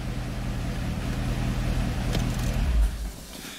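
A Chevrolet Corvette engine idling with a low steady hum, then shut off near the end with a brief thump as the rumble drops away into quiet.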